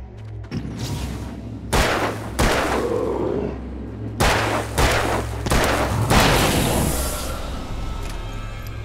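Gunshots in the video game Alan Wake, a handful of loud, separate cracks spaced a second or so apart over a steady low hum, each with a short echoing tail.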